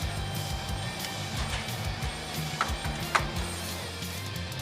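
Changing the chuck jaws on a small hobby lathe makes a steady, low mechanical clatter of metal parts turning and ratcheting, with a couple of sharper clicks near the end and no voices.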